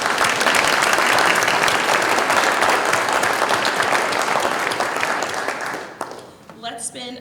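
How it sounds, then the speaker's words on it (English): A school audience applauds its faculty and staff in a dense, sustained round of clapping that fades out near the end, and a speaker's voice then comes in over the last moments. "I would love to give them a round of applause."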